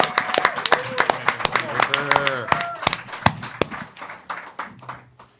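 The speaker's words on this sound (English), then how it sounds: "Applause, guys." Convention audience applause with some cheering as a comic writer is brought onstage, scattered sharp claps over voices and whoops, loud at first and thinning toward the end.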